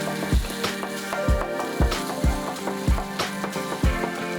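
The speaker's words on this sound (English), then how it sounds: "we're just going to be grilling that directly on the surface" Tenmenjiang sweet bean sauce sizzles directly on the hot surface of a frying pan for Japanese-style mapo tofu, a close, steady crackle with repeated scraping stirs at a regular rhythm.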